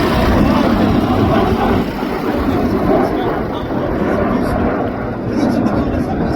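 Red Arrows jets pass during a London airshow display, a broad sustained engine roar filling the air, fairly loud and steady, while a commentator talks over it.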